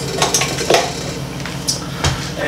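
Metal clinks and clatters as the stock mixing blade is fitted onto a KitchenAid stand mixer in a kitchen, a few sharp knocks and scrapes close by with no talking.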